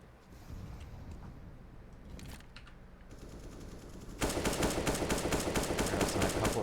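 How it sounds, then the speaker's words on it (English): Gunfire in a Counter-Strike match on Inferno, faint scattered shots and mechanical clicks at first, then a dense loud burst of rapid automatic fire near the end. "MP9s, couple upgraded pistols, and JT on the scout this round."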